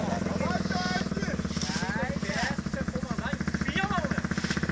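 Motorcycle engine running on a dirt trail, a steady mid-pitched drone with harmonic whine throughout, heard under overlapping shouted voices of riders nearby.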